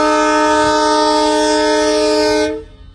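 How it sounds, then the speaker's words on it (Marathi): A train arriving on a test run at a new railway station in Beed district sounds a loud, steady, chord-like horn close by for about two and a half seconds before it cuts off sharply. "गाडी हॉर्न पण देत आहे।"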